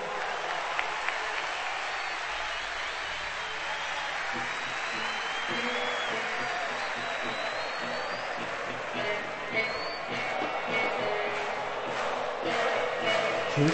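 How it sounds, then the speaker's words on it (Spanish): Applause and crowd noise at the QuilmesRock 2008 rock festival for Los Piojos, a broad continuous wash of clapping and cheering that swells slightly toward the end. "aplauso para el señor Daniel Huila, por favor."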